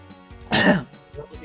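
A single short, harsh throat-clearing cough bursts out close to the microphone, with casual voices talking quietly before and after it.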